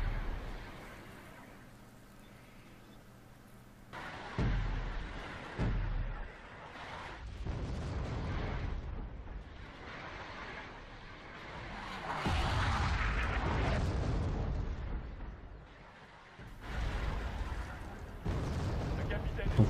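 CAESAR artillery bombardment in Wargame Red Dragon: deep, heavy booms and rumbling impacts come in repeated bursts at a moderate distance, with someone talking in French over them.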